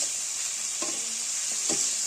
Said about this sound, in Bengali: এখন ভালো করে নেড়ে নিচ্ছি